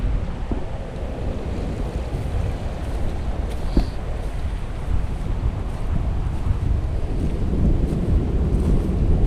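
Wind buffets an open GoPro 5 microphone on a beach at Lucas Bay, St. Maarten, a loud, continuous low rumble with gusty surges and surf behind it.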